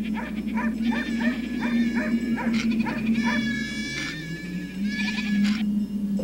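A flock of sheep is rounded up, with repeated overlapping bleats and barking calls from several animals over a low steady drone, fairly close.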